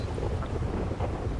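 Boat engine in a roleplay video game, a sea boat driven on the water, giving a steady, dense, close rumble with wind-like noise throughout and no talking.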